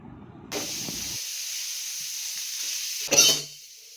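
Onions, curry leaves and green chilies fry in hot oil with mustard seeds in a pan, a steady close sizzle with a few soft stirring knocks and a sharper hissing burst near the end.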